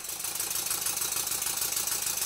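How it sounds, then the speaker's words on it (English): A Stuart Twin Victoria model steam engine runs on compressed air at 50 psi under hand load on the flywheel, chuffing in a quick, steady, even beat, close and fairly loud. "now you can clearly hear four beats, particularly when I put the engine under load"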